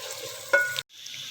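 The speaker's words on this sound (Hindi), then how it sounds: "इसको हम ना अब थोड़ा सा फ्राई करेंगे" Onions frying lightly in a pan for an aloo baingan curry give a steady close sizzle with a brief stirring scrape, then cut off abruptly before a softer hiss resumes.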